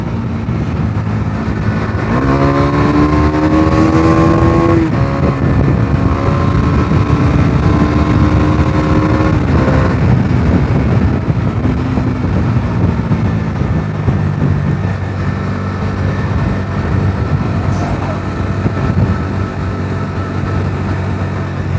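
A Bajaj Dominar 250 motorcycle accelerates hard out of a bend to overtake, its engine loud and close with rising revs and gear changes over steady wind and road roar.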